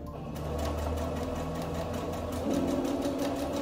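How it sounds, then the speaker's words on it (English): A sewing machine runs steadily, stitching a seam in fabric for a Regency gown with a continuous, even mechanical whir, close and loud, shifting slightly in pitch partway through, with no talking. "Line it up five eighths, foot down, needle down, and then we sew."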